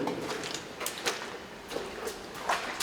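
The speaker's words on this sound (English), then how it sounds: "Sliding door." Heavy sliding door inside a WWII fortress creaking and scraping along its track, with several rough grinding bursts and metallic clunks at uneven intervals, fairly close and alone.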